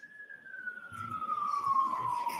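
Emergency vehicle siren wailing in the distance, a single steadily falling tone that slowly grows a little louder, heard faintly behind low background noise with no voices.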